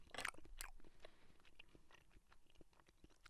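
Close-up chewing of a cheese-flavoured Kit Kat wafer bar, a couple of sharp bites at the start followed by soft, muffled mouth-chewing sounds, quiet and with no talking.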